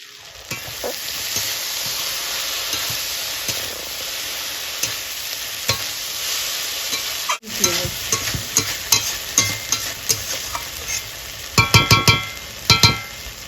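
Taro stolons fry with mustard paste in a pan on a steady hiss of sizzling oil, then a spoon scrapes and stirs in a run of sharp knocks and clatters against the pan, getting louder toward the end.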